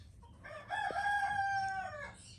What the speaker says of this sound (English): So we must have a rooster.